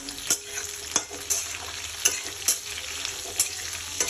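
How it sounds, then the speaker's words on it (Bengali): Onion and tomato masala fries in oil with a steady close sizzle, broken by distinct spatula scrapes and stirring clacks at irregular intervals, no voices present. "আর এটাকে ভালো করে এখন আমি ফ্রাই করে নেব"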